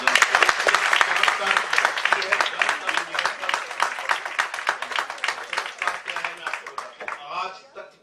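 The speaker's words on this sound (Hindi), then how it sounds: "इस बच्ची के लिए एक बार जोर से तालियां बजाएं।" An audience applauds for a young girl, a dense steady clapping that fills the room, close and loud, thinning out and fading in the last second.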